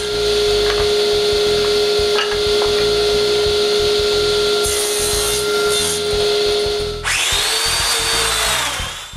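Wooden rails for a dresser web frame are cut with a power saw, a steady loud machine whine running throughout, with a sharper cutting burst near the end.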